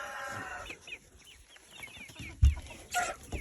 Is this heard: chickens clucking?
yes